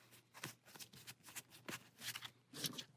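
A deck of board game cards being shuffled up close, a quiet series of rapid riffling bursts and soft flutters repeating in an uneven rhythm, with no talking.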